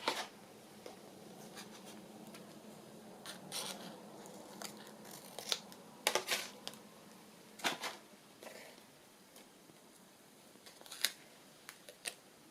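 Scissors cut through sticky paper or tape during crafting: a faint, close series of irregular snips and small rustles, scattered unevenly over about twelve seconds against quiet room tone.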